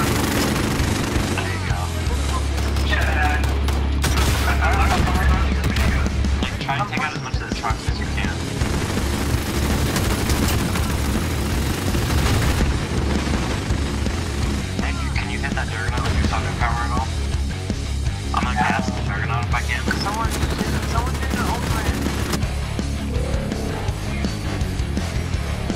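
A minigun in Modern Warfare fires in long rattling bursts, dense rapid gunfire close by mixed with other shots and booms of a match, while players talk over it.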